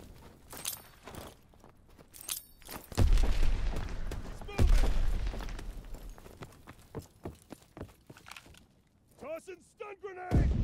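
Stun grenade blasts in Call of Duty: WWII, two heavy booming thumps a couple of seconds apart with ringing decay, amid scattered gunfire and shouted voices in a chaotic firefight.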